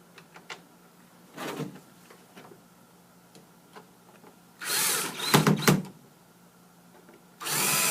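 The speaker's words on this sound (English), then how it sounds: "And you're ready to put the screws back together to hold it in place." A power drill drives screws into a plastic module, with several short whirring bursts separated by quiet pauses, close and fairly loud, and faint ticking between them.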